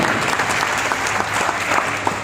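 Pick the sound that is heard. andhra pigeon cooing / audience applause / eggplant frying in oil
audience applause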